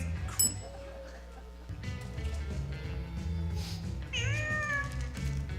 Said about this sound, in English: I think it's a cat.